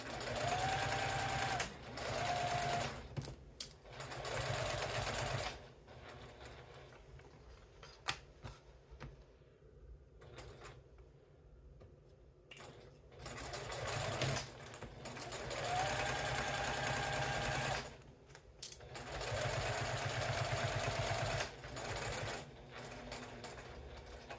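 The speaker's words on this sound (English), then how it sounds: "If you guys heard my machine change, that was when it hit the craft fuse, so you can kind of hear it kind of gunk up as the needle's going." A sewing machine stitches through fabric layers and craft fuse on a tea-themed wallet, whirring in several bursts with pauses between, its tone thickening and labouring as the needle hits the stiff fuse.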